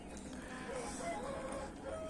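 A young silver-white rooster crows at close range, a drawn-out uneven crow running across the clip over steady background noise.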